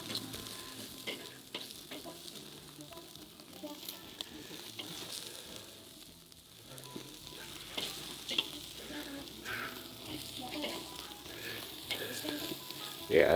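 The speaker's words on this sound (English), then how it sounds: "we want to get these lamb chops with the loin side facing the fire up like this. They can start baking" Lamb chops sizzle on a grill over an open fire, loin side toward the flames, giving a steady, soft crackling hiss that runs throughout with little else over it.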